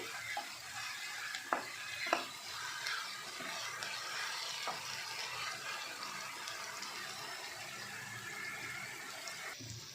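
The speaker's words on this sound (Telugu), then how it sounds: "మసాలా నూనెలో వేగాలండి పచ్చివాసన రాకుండా ఇలా తిప్పుతూనే ఉండాలి" Masala paste stirred and fried in oil in a home kitchen pan, a steady close sizzle with occasional scraping knocks of the spoon, continuous throughout with no talking.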